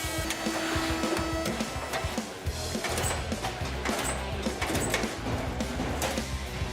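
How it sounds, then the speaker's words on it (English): An industrial machine coins the corners of an aluminum suitcase on a factory line, giving a dense, steady mechanical clatter with repeated knocks and whirring, loud and continuous throughout. "From there, we coin the corners of the aluminum suitcase."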